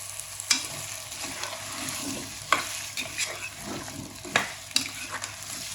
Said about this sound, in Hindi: अब इसके अंदर आलू ऐड कर देंगे